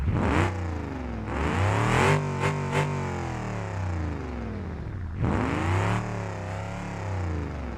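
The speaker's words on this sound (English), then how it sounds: "now if I rev it" A video game car engine in BeamNG.drive revs hard in repeated bursts, pitch sweeping up and falling back, loud and close, with a rough mechanical growl between revs.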